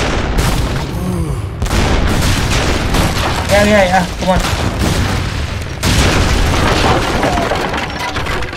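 Cannon fire in Age of Empires III Definitive Edition, repeated heavy booms and crackling volleys in close succession, loud and dense, with a voice speaking briefly over the battle.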